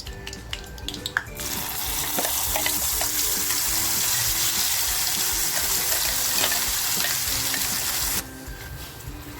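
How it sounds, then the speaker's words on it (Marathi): Ground spice masala with whole spices and cashews fries in a hot pan and is stirred, giving a loud, continuous, close-up sizzle that swells in after a moment and cuts back near the end. "आपला मसाला ना आपल्याला छान फ्राय करून घ्यायचा आहे आणि सतत आपल्याला तो हलवत राहायचा आहे"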